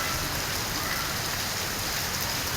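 Heavy rain pours steadily in a tree-lined park in Lahore, a dense, loud, continuous hiss of drops hitting the ground and leaves.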